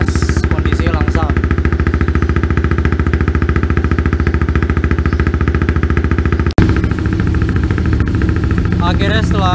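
A Yamaha R1 sport motorcycle, started after more than a week unused, runs at a loud, steady idle with a rapid pulsing beat close by, with a brief bit of talk over it.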